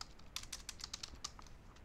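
Quick typing on a computer keyboard during a coding session, a run of crisp, closely spaced key clicks at moderate level with no voice.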